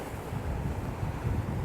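Sea waves wash and splash over small rocky outcroppings along the shore at Southend, a steady broadband surge with wind noise, fairly close and continuous with no voices.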